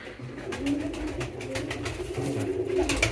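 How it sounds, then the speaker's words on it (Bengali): A king pigeon chick coos in low, soft, repeated throaty murmurs at close range in a pigeon loft, with no voices over it. "এই যে আমাদের কিং কবুতর বাচ্চা"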